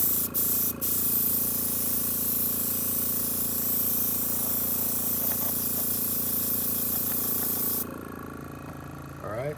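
Airbrush blowing acetone through to clean it, a loud steady close hiss of air and spray that runs continuously and cuts off sharply near the end, leaving a low hum.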